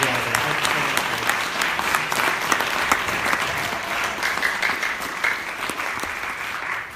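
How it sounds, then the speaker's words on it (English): An audience claps steadily for several seconds at a fundraising gala, a dense, even patter of many hands with a few sharper claps standing out. "Let's give a round of applause to Elise Jackson as well."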